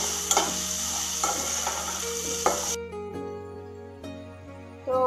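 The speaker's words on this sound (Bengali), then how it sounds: "আমি হলুদ আর লবণ দিয়ে দিয়েছি আলুটার মধ্যে। এবার এটা একটু ভেজে নেব।" Potato seasoned with turmeric and salt frying in a pan: a steady sizzle for the first few seconds with a few scraping stir clatters, then the sizzle cuts out, leaving quieter tones and a final knock.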